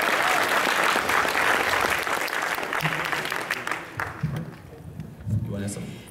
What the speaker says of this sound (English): So if I could get a round of applause for these guys